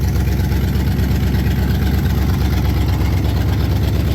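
An old car engine idles for the first time in 30 years with a loud, close, steady low-pitched chug and an even pulsing rhythm.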